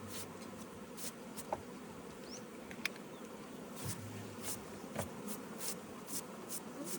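Honeybees buzzing around a hive frame as it is brushed off, heard as a faint, steady insect hum with a few soft brushing ticks and no talk.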